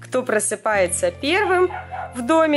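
Puppies bark outdoors, several sharp yips and higher whining barks close to the microphone, while someone talks over them.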